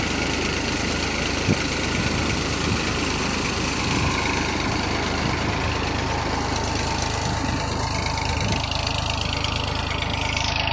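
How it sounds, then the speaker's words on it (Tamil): A tractor's PTO drives a 6x6 double pump, giving a continuous loud engine and pump drone with a steady mechanical rattle throughout. "டபுள் பம்பு ரன்னிங்கில் இருக்குது பிடிஓ ஷாப்பில்."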